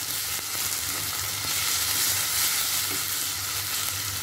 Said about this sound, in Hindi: अच्छी तरह से हम इसे मसालों के साथ में इस तरह से भून लेंगे